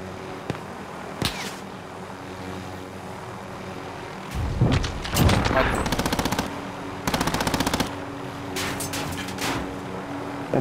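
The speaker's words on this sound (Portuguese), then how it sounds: "o cara já tava dando tiro." Video game gunfire: a few isolated shots, then loud rattling bursts of automatic fire midway and again later, with faint voices underneath.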